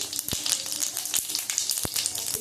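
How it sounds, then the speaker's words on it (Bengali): Bay leaves sizzling in hot oil in a pan, a dense bright crackling hiss throughout, broken by a few sharp pops. "দিয়ে দিলাম তেজপাতা"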